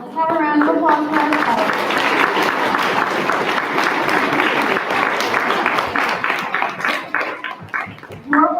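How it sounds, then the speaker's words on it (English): An audience at a spelling bee applauds, a dense, sustained wash of clapping that fades slightly toward the end, with a voice heard briefly at the start. "Let's have a round of applause for"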